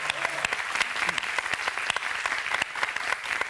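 Studio audience on a Spanish-language television talk show giving a sustained burst of applause for a guest, crisp close claps packed densely and evenly throughout.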